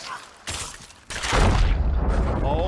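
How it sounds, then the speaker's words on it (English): A gunpowder barrel explodes in the pirate game Sea of Thieves, a loud booming blast with a rumbling low tail that swells and lingers after a couple of smaller thuds. "the skeleton hit the gunpowder barrel, and we just both blew up"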